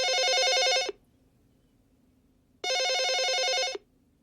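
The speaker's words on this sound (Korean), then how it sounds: "젊은 여자에게서 전화가 걸려왔다" A telephone bell rings in two clear, loud bursts separated by a short silence, used as a sound effect in a Korean radio reading of a story.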